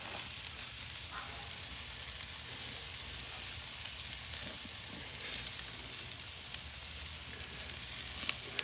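Kansas City strip steaks sizzling on an Oklahoma Joe's Blackjack charcoal grill outdoors, a soft, steady hiss and crackle with a few faint pops and scrapes, no voices.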